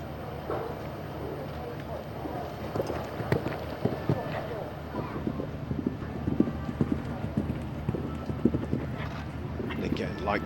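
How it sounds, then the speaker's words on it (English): Horse hooves clip-clop on the arena surface during a show jumping individual final at the Asian Championships, with irregular thuds and strikes over wind noise and a commentator talking throughout. "Only just taken over the ride on this horse, Kidamia, as well"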